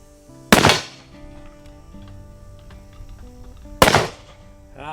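Two sharp, loud shots a few seconds apart from an Uberti 1872 Open Top revolver loaded with black powder, each a sudden crack with a short, decaying tail outdoors.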